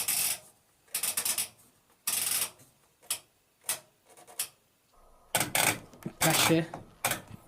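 Old washing machine program selector dial being turned, giving a series of sharp mechanical clicks and ratchet ticks in irregular bursts, close and fairly loud, with a person speaking briefly between turns.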